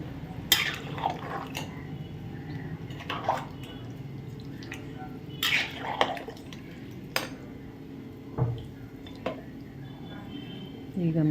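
Chicken biryani ingredients mixed with salt in a pot, soft scraping and clinking of a spoon against metal with wet squelches, under a voice speaking throughout.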